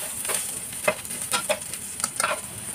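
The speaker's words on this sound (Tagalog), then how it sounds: "Pwede natin ilagay ang ating garlic. Gisahin natin." Garlic sautéing in a pan for adobong patani with pork, a steady broadband sizzle with intermittent stirring scrapes, close and continuous.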